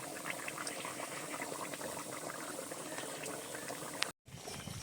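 Curry with ground cumin paste bubbling in a pot, a steady quiet simmering with small pops, briefly cut to silence near the end.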